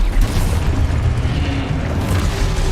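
A Confringo fire spell explodes in the video game Hogwarts Legacy, a loud, dense booming blast that rumbles steadily through the whole stretch with no talking.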